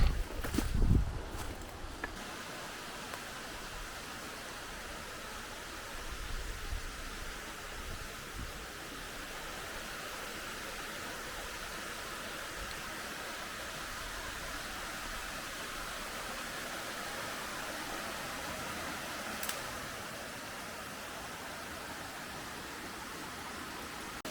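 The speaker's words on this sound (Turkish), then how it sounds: "Değirmendere şelalesi kendisine yaklaşırken önce kayaların üzerinden süzülen küçük bir şelale" Değirmendere waterfall pours over mossy rocks in a green forest gorge, a steady broadband rush that holds even and unbroken throughout, with a few brief knocks near the start.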